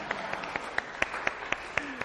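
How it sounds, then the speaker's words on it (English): Church congregation clapping in a slow, fairly even rhythm, about ten distinct claps spaced roughly a quarter second apart, moderately faint and roomy, with soft voices in the background. "please give her a big applause"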